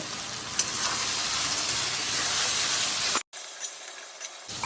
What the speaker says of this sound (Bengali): এবার আলুটা ভাজা ভাজা হচ্ছে